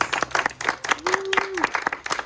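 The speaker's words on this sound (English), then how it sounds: "So please give yourselves a round of applause" Audience applause at a state senator's funding announcement for a nature center, a crowd clapping at moderate level while a voice talks over part of it.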